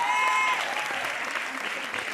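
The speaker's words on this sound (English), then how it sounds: "Give yourselves a round of applause." Audience applause at a women's success event, a dense steady wash of clapping from a crowd, fairly loud and continuous, with a few voices mixed in near the start.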